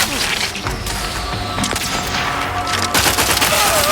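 Dense gunfire from a firefight in The Outer Worlds 2, a steady wash of rapid shots with louder bursts near the end, faint voices mixed in.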